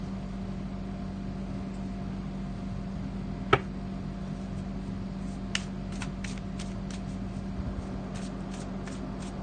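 Quiet, soft shuffling of a black and white Faulkner tarot deck, with a single sharp tap followed by a string of light, intermittent card clicks and riffles in an otherwise still room.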